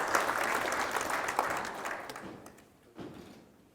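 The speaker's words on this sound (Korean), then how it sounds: "힘내시라고 다시 한번 박수를" An audience claps in a hall at a Gangwon regional political event, with dense steady applause that thins and fades after about two seconds and ends with a brief late burst.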